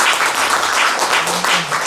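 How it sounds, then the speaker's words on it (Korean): Steady, loud applause from a church lecture audience after a closing prayer, a dense wash of clapping sustained evenly throughout with no speech over it. "뜨거운 박수 더 쳐주세요"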